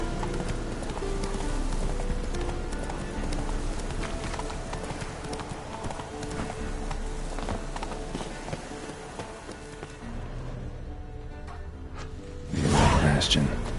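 Roach the horse gallops in The Witcher 3, a steady rapid clip-clop of hooves close by, ending in a louder swell near the close.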